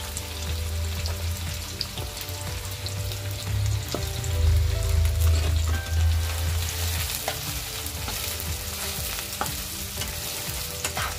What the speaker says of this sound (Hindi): इसे हमें गोल्डन ब्राउन होने तक ही फ्राई करना है।